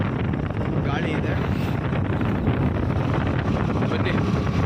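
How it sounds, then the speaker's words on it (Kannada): Strong wind buffets the microphone on a road in poor visibility, a loud, continuous rushing roar that fills the whole stretch. "ಗಾಳಿ ಇದೆ."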